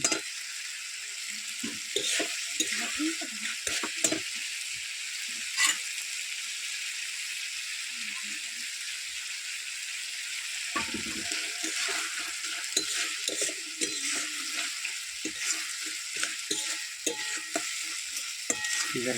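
Chicken legs fry in a pan with a steady close sizzle, while a utensil scrapes and stirs them in repeated bursts and occasional soft clinks throughout.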